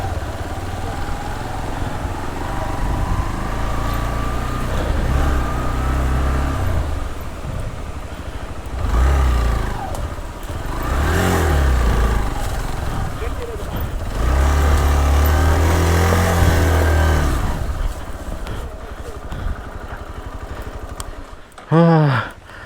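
Superbike engines such as a Kawasaki Versys 1000 and Z800 rev loudly and repeatedly on an off-road trail near Munnar, with surges and idling between bursts as people talk and shout nearby.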